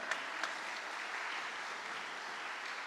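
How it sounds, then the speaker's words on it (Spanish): A church congregation applauds softly and steadily, a faint, even wash of many hands clapping at a distance with a couple of sharper claps near the start. "Dale un aplauso al Señor por eso"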